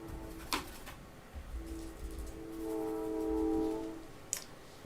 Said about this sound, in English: I hear the train coming again.